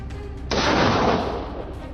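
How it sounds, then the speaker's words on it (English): A rifle shot during a warthog hunt bursts in as a single loud, broad blast that dies away over about a second, with a fainter crack before it. "I pull the trigger, and the shots ring out"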